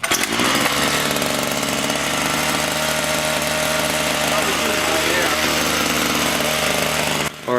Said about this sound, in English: once we got it started, we realized it wasn't idling fast enough